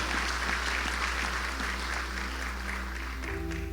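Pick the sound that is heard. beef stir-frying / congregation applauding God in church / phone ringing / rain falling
congregation applauding God in church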